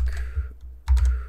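Typing on a computer keyboard, a few quick close key clicks in two short bursts with a brief pause between.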